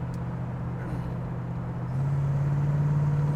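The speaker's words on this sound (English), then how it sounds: "Car has pretty good pickup." A 1965 Ford Falcon with a 302 V8 accelerates on the road, a steady low engine drone heard from inside that rises and grows a little louder partway through.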